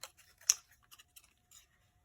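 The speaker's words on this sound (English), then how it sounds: "And where are my scissors? So they need to be cut apart." Scissors snipping apart paper tabs during a craft project, a handful of short crisp cuts at an uneven pace, one sharper louder snip among softer ones, close and with no talking.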